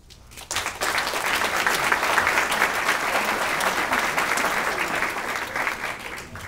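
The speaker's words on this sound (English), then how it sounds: "A nice round of applause for all of our 4 candidates." Steady applause from an audience at a chamber breakfast for mayoral candidates, beginning abruptly and sustained at an even level throughout, with a faint murmur of the crowd beneath.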